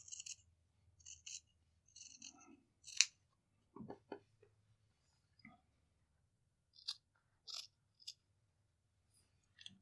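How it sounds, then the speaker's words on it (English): Small snips make a series of crisp, close metallic clips while cutting fabric for a sewing placket, with quiet pauses and faint handling noises between the cuts. "I could probably use my little snips to do this right here."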